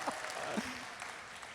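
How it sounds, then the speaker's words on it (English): An audience claps through a short burst of applause that is already fading, and the clapping blends with a speaker's voice. "They didn't applaud as long as I thought they would."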